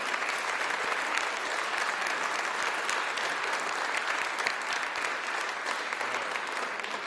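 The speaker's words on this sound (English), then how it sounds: "I think he deserves a tremendous applause for a tremendous act." Sustained audience applause at a gala in Jerusalem, dense and steady clapping from a large crowd filling the whole stretch at an even level without a break.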